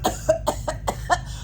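A person gives a demonstration cough: a rapid series of about six short, sharp barking coughs in quick rhythm, close and fairly loud.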